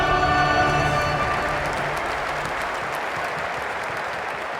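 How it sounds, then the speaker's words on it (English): Stadium crowd in the football video game PES 2010 roaring at kickoff, a dense, sustained wash of cheering and applause that starts loud and holds steady throughout. "A big roar from the crowd as the game gets underway."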